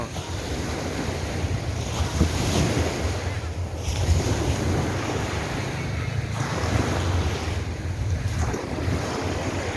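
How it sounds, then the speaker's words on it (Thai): Surf washes onto Jomtien beach in Thailand with strong wind buffeting the microphone, loud and continuous, waves swelling and receding in slow surges. "ผมมาเดินเล่นชายหาดนะครับ"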